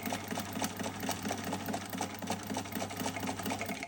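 A sewing machine stitches along the top of a junk journal page above a plastic pocket, giving a steady, fast mechanical whir with rapid needle ticks, close and continuous.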